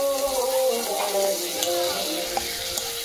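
Food frying and being stirred in a pan during a home feast cooking, a close sizzle with scraping stir sounds and a faint voice murmuring underneath, brief and continuous.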